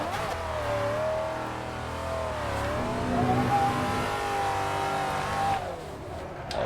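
A Rocket Bunny widebody Nissan 350Z with a V8 swap drifts in a racing game, its engine holding a steady, loud revving drone with rising and falling pitch, no voices over it.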